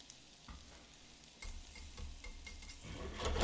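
Garlic sizzling in browning butter in a pan, a steady crackling fry that swells louder near the end, with occasional stirring clicks and no talking.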